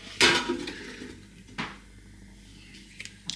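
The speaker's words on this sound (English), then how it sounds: "you can open up the air fryer basket" An air fryer basket pulled open in a home kitchen, giving a sharp metallic clatter followed by a second softer clunk and a few faint light knocks, close and fairly quiet with no talking.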